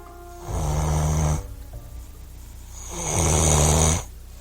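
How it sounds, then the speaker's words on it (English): Two loud, drawn-out snores, each a rough rumbling breath with a quiet pause between them. "began to snore very loud, as if he was fast asleep"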